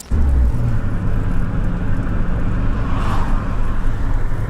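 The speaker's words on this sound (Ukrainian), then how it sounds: "Дуже сильно нестабільна робота холостого хода. Плавають обороти. Деколи сама починає газувати" A car engine idles unsteadily with a fault that makes the revs rise and fall. A close, continuous low rumble wavers and swells briefly partway through.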